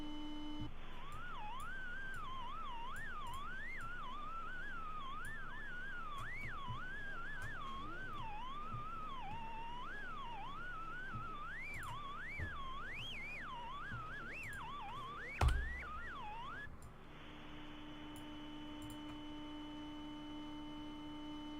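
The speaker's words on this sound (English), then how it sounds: "The audio begins with a few beeps followed by a pitch that warbles and changes as time goes on." An eerie, siren-like electronic tone from a game warbles and swoops in pitch continuously for about fifteen seconds after a few opening beeps, then cuts to a steady faint hum; quiet and alone.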